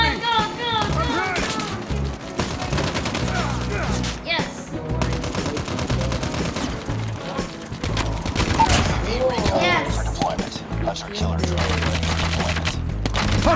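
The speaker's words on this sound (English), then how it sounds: "I hear shotgun shots." Shotgun fire in a Call of Duty match played on a mobile controller, with repeated loud blasts and rapid bursts over a busy game soundscape, while people talk and react throughout.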